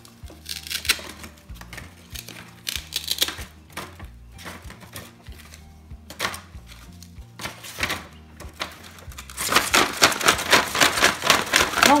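Small game pieces from an animal-themed word game are shaken and mixed in a little bag, making rapid clattering clacks in uneven bursts that grow denser and louder toward the end.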